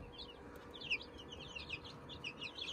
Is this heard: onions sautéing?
no